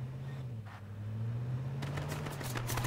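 Gunfire in the H1Z1 video game, a rapid burst of sharp shots in the second half over a steady low engine hum from a vehicle.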